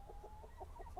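Backyard chickens foraging behind their coop in a tropical permaculture garden, making a short string of soft, low clucks close by over a faint steady background.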